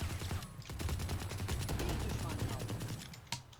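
Rapid gunfire from a shooter match in Valorant, a quick dense burst of shots rattling over low background game noise with a sharp crack near the end.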